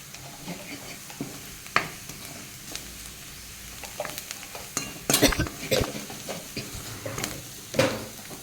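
Spices for a soybean paratha filling being stirred in a hot pan, with a soft sizzle under irregular scraping and stirring strokes and a few sharper utensil knocks, close and moderately loud.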